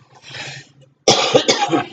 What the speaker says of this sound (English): Coughing a bit here today.